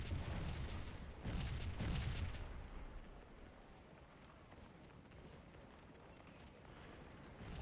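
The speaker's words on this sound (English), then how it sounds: "these cannons are going to keep pot-shotting at them" Cannon artillery fires in the Civil War battle game Scourge of War: Gettysburg, with a few muffled distant booms in the first couple of seconds followed by a quieter rumbling battlefield background.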